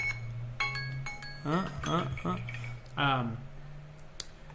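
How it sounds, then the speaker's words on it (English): An alarm goes off with a string of short, bright electronic beeps, then a voice talks over it while the tones fade in and out under the speech. "oh, there goes my alarm"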